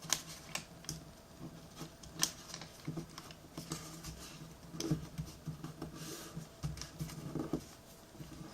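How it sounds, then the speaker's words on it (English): Paper for an origami heart bookmark is folded and collapsed, with faint soft crinkles, taps and light rustling scattered over several seconds, close and quiet, with no voices. "we're going to collapse the paper like that"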